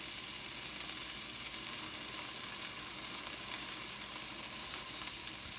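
Bread for a patty melt frying in a pan, giving a steady, even sizzle that holds at the same level throughout with no talking.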